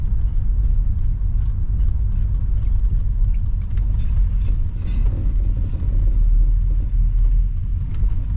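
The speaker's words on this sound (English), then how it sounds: "Not often you get an untested auction car that runs as good as this." A 1968 Chrysler Imperial with a 440 V8 runs while driving, giving a steady, close, low engine rumble with continuous road noise throughout and no voices.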